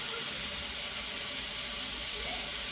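Hot water pours steadily into a pan of sautéed tomato rice for Mexican-style arroz, a continuous hissing, sizzling rush of water filling the pan, fairly faint throughout.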